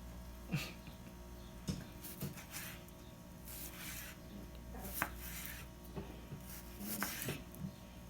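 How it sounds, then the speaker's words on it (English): A small knife slices through a partly frozen pork loin chop on a board, giving several soft, scraping cuts and dull taps at an uneven pace, close and fairly quiet. "I just cut the chop in half,"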